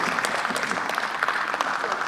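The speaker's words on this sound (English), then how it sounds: "especially those who are clapping now" Members of parliament in the Malawi parliament chamber clap together, a dense patter of many hands that holds steady and fairly close for two seconds.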